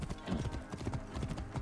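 Close, loud hoofbeats of a horse in Assassin's Creed Origins thud in a quick, regular gallop-like rhythm over dense low rumbling game ambience, with no voices over it.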